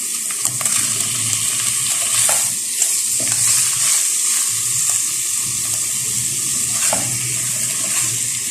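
Gosht sizzling and frying in a hot pan for dahi gosht, a steady loud crackling hiss with occasional stirring scrapes and clinks, close up and continuous.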